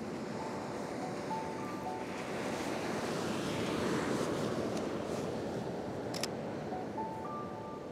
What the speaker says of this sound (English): There's some great sets of waves that come through here too. Just ocean rollers with an offshore wind.